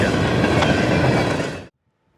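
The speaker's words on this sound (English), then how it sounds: "A third train, M635, is lugged west by an ET44AH and an ES44AC-H." A westbound freight train hauled by ET44AH and ES44AC-H locomotives roars past close and loud, a dense rumbling wash of wheel and car noise that cuts off abruptly.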